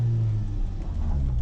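A Renault Super 5 with a 1.4-litre engine lugging at low revs, a deep steady rumble heard close from inside the car, briefly and without talk.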